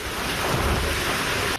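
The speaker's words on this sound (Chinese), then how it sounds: "风真正足透，树仔口吹甲摇真大力" Strong Typhoon Doksuri winds and high surf at Liaoluo harbor in Kinmen: a loud, constant roar of gusting wind buffeting the microphone over heavy crashing waves, with no pause.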